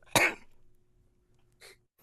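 An actor playing a priest gives one sharp, close cough, followed by a shorter, fainter cough or throat noise near the end against a quiet background.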